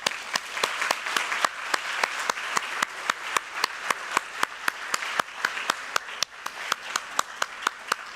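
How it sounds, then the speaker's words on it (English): Audience at a plenary session of a medical conference applauds the speakers, sharp close claps forming a steady dense round that holds evenly throughout, with no voices over it. "Please give a big round of applause to the wonderful"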